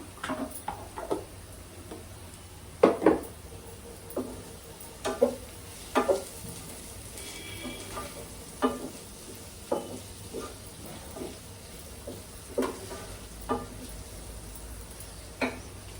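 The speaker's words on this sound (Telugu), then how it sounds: "కారం వేగుతుంటుంది." Chili powder frying in hot oil in a pan for fish pulusu, a low steady sizzle broken by a dozen or so sharp clinks and scrapes of a spoon stirring, close and fairly quiet.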